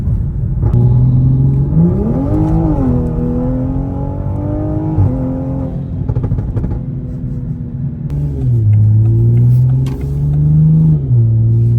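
A Toyota Supra heard from inside, accelerating in sport mode with a loud engine rumble that rises in pitch, drops at each gear shift and climbs again, repeating through several shifts.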